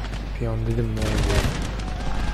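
Musket volleys crack out in the Empire: Total War strategy game, a burst of overlapping shots in quick succession with someone talking over the gunfire.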